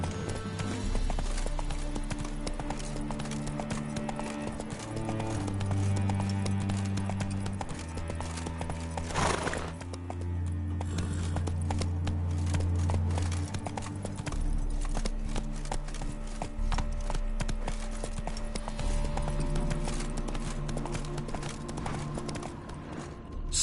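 Roach, a horse in The Witcher 3, galloping with steady rhythmic hoofbeats over a loud game music bed, continuing for the whole stretch.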